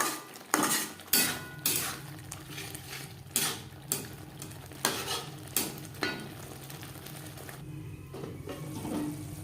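Mutton fat and spices are stirred in a pan for yellow peas curry, with a utensil scraping the pan in repeated sharp strokes over a soft, steady sizzle.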